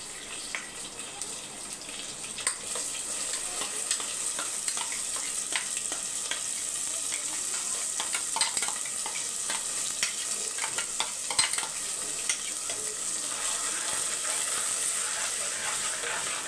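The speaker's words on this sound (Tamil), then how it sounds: "இப்போ வெங்காயம் தக்காளி வதங்குது" Ground paste with onion and tomato frying in oil in a pan for a village-style chicken curry, a steady bright sizzle running throughout with occasional soft stirring clicks.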